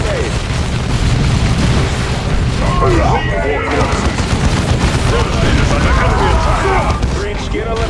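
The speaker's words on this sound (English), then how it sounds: "Use a grenade." Gunfire and explosive bursts crackle through a Warhammer 40,000: Dawn of War 2 battle, loud and dense with dull booms among rapid shots, while voices speak over the fighting.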